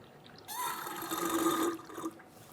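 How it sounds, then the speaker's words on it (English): A siphon tool draws old brake fluid from the master cylinder of a 2013-2022 Buick Encore, giving a gurgling, slurping liquid rush for about a second and a half that fades out, fairly quiet and close. "we're going to use a tool like this to siphon out the old fluid out of the master cylinder"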